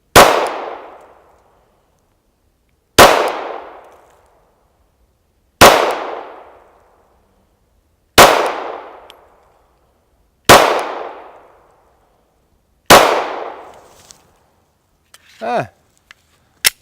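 Six loud, sharp Glock 43 single-stack pistol shots ring out evenly, a few seconds apart, each with a quick ringing decay. Brief faint voice sounds follow the last shot.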